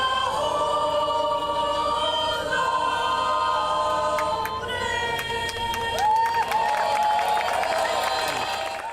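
Fourth of July parade crowd on Main Street, a broad murmur of many people with scattered cheers and clapping, children calling out and a voice speaking over the noise.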